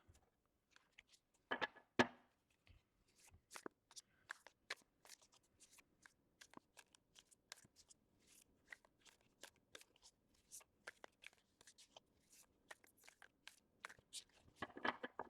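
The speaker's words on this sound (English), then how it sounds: "so let's shuffle these up" Tarot cards are shuffled in quiet, irregular bursts of riffling and snapping, close by, with short pauses between shuffles.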